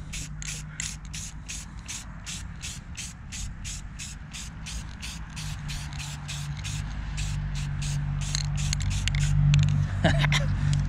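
A spray can lays a light coat of paint on a minibike frame in a steady series of short hissing bursts, close and even, over a low rumbling background.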